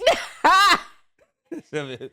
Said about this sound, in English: that cough, I got a little ginger ale cough